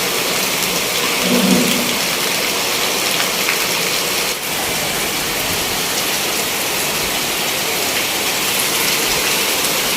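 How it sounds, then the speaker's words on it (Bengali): Heavy rain pours down in a village in Shariatpur, Bangladesh: a dense, loud, continuous roar of falling water with low rumbling underneath. "প্রচুর বৃষ্টি হচ্ছে আমাদের এখানে, দেখতে পাচ্ছেন শরীয়তপুরে প্রচুর পরিমাণে বৃষ্টি।"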